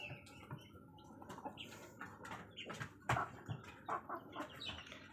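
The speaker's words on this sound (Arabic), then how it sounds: "وأقوى مستويات دجاج الحجازي بإذن الله" Hijazi chickens kept together with Indian and Persian breeds cluck and call at close range in a pen, with soft scattered clucks, an occasional wing flap and a louder squawk mid-way, and no talking.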